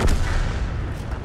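A heavy tank gun fires in World of Tanks, a single loud deep boom with a long rumbling decay, near and alone, with no talk over it.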